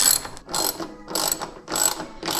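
Ratchet driving small screws back into place during a seatbelt install on a brand new Toyota Supra: five quick clicking bursts in a steady rhythm, close and clear, with no talk.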